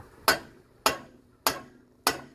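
Four evenly spaced metallic hammer taps on a ball joint fork on a Honda Accord front wheel ring out about every half second, sharp and close, with quiet between strikes.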